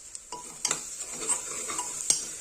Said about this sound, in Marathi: मसाले आपण तेलामध्ये छान असे परतून घेणार आहोत